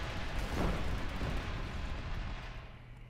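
A grenade blast in the shooter Killzone Shadow Fall, during online team deathmatch, lands as a deep rumbling boom that swells near the start and then rolls slowly away over a few seconds.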